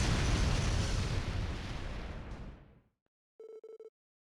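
Bomb detonation in the role-playing video game Trails to Azure: a loud, booming blast with a long rumbling tail that fades out over nearly three seconds, then silence before a short sequence of beeping game tones.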